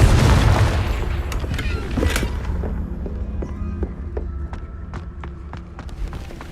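A Confringo fire spell blasts in Hogwarts Legacy, a loud booming burst up front that rumbles on under a string of sharp crackling pops and impacts.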